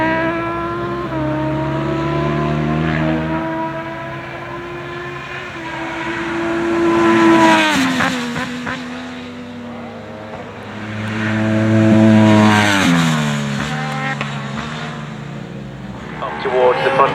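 Sportbike motorcycles race at Cadwell Park, their engines swelling to two loud passes before fading again, under continuous race commentary.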